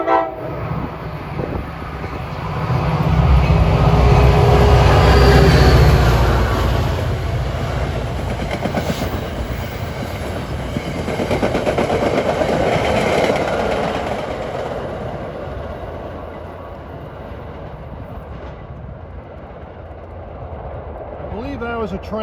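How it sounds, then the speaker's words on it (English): A train led by a Metro North painted GP40 locomotive deadheads past on the NJ Transit Mainline, its diesel rumble swelling loud and close then lingering as the cars roll by, with a horn blast early on. "He's dead heading to Suffern most likely with a Metro North painted GP40"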